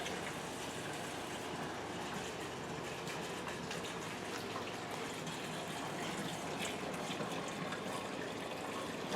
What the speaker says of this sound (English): We're putting water in it.